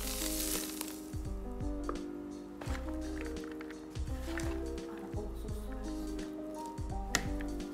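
Heated oil sizzles steadily in a pan while a simple salad is made, a soft continuous frying hiss with faint crackles, close and low in level and heard alone without talk.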